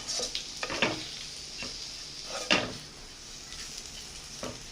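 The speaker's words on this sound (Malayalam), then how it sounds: "നമ്മുടെ മസാല ഒന്ന് നന്നായിട്ട് ചൂടാകുന്നവരെ നമുക്ക് ഒന്ന് ഇളക്കി കൊടുക്കാം" Masala being stirred and heated in a pan for mutton roast, with steady frying sizzle and several distinct scraping stirs of a spoon against the pan.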